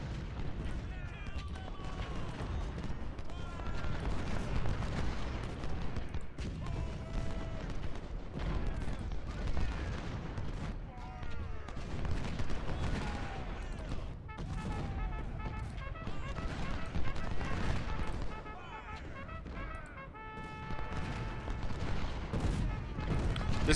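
Heavy artillery booms across a Civil War battlefield in Ultimate General: Civil War, recurring rumbling cannon blasts and distant volleys beneath continuous talking throughout.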